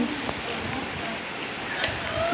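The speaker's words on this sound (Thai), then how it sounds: "ฝนยังตกอยู่เชื่อหรือไม่ มันตกตั้งแต่เก้าโมง" Steady rain falls throughout a video game scene, a constant soft hiss of drops with faint tones and clicks scattered over it.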